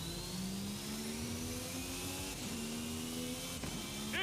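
A car engine drones steadily in Forza, heard from outside the vehicle with the camera behind it, a faint, smooth hum that rises gradually in pitch as it revs, with no talk over it.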